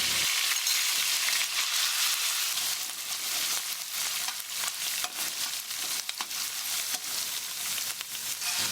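Sweet preserved radish fries in heated oil as a filling for vegetarian Hokkien rice dumplings, a dense, continuous close sizzle with intermittent stirring crackles and no talking.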